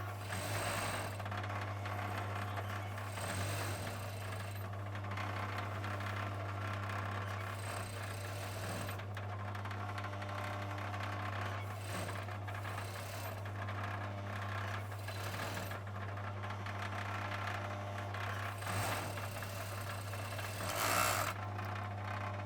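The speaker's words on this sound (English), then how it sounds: "And we're going to overlock the other side." Overlocker stitching the outside-leg side seam of a pair of trousers, a steady continuous motor hum with a constant low drone running at an even level throughout, close and alone with no voices.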